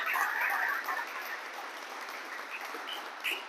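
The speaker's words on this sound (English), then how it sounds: "let's give Mark and his crew a round of applause" Audience clapping at an outdoor ribbon-cutting for a food bank in Garden City, Kansas, honoring a construction crew; dense applause swells at the start then thins out over a few seconds.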